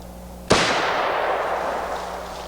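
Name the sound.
battle rifle gunfire with full metal jacket ammo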